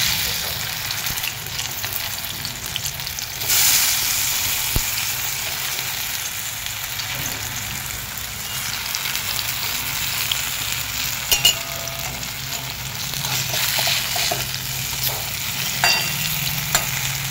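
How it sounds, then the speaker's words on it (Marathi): Aluvadi, rolled colocasia leaf slices, shallow-fry in a little oil with a continuous close sizzling hiss, punctuated by a few faint clicks and spatters. "आणि थोडीशी फ्राय करून घ्यायची तेलावरती।"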